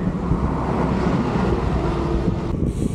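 Loud, continuous wind buffeting the microphone, a dense rumbling roar with no pauses.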